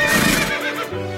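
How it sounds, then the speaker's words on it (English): Two large white horses neigh and whinny loudly as they pull a carriage up to an inn, a close, drawn-out cry with a low rumble underneath and no talk over it. "a carriage pulled by two large white horses rolls up to the inn"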